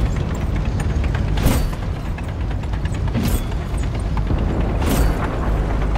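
Tank gunfire and explosions in the World of Tanks video game, with three loud booming shots spaced about two seconds apart over a steady rumbling mechanical battle din.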